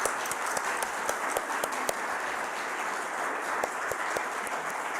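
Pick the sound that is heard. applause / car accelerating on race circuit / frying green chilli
applause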